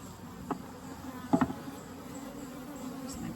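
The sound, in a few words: honeybees buzzing during Layens horizontal hive inspection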